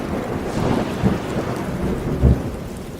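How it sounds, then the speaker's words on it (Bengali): A deep, booming thunder clap rolls through steady heavy rain on a stormy monsoon flood night, with two strong low rumbles standing out over the continuous hiss of rainfall. "আর ঠিক সেই মুহূর্তেই বিকট শব্দে আর একটা বাজ পড়ল"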